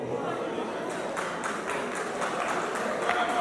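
Scattered, fairly light clapping from guests at a civil wedding celebration, with separate claps and a low murmur of voices beneath.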